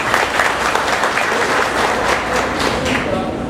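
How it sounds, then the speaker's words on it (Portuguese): A conference audience at a coffee-farming event applauds, with dense, sustained clapping filling the room at full volume from start to finish. "E agora uma salva de palmas para quem vai decidir irrigar"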